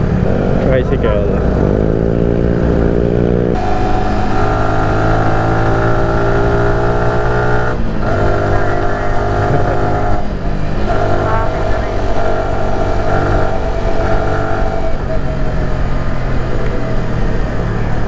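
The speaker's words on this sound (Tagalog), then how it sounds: "Tricycle." A motor tricycle engine revs and passes on a street in the Philippines, loud and close with a buzzing, shifting engine note, heard under a person speaking.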